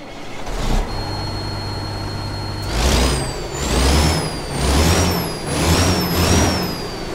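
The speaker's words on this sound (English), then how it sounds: "Let's go ahead and fire this thing up and see how she sounds." A Kenworth T660 truck engine in American Truck Simulator cranks and catches after a few seconds of steady idle hum, then surges through several loud, rhythmic revs with a hiss of air.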